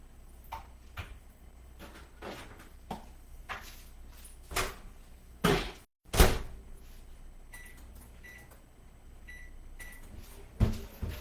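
Microwave oven melting softened butter in a home kitchen: a low hum runs throughout, punctuated by sharp clicks and door knocks and a short series of beeps near the end.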